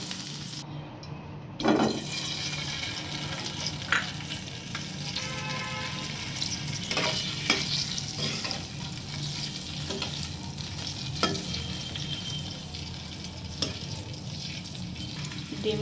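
Quail eggs fry steadily in a pan with new potatoes, a continuous close sizzle with occasional stirring scrapes and small clinks, no voices.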